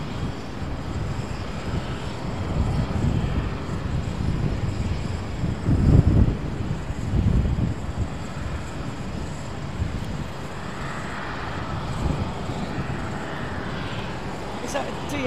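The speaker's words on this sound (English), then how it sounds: "HL A330 that I can hear sort of taxiing out" An Airbus A330 airliner taxiing at Amsterdam Schiphol airport, a steady distant jet engine rumble and whine mixed with wind buffeting the microphone, swelling briefly in the middle.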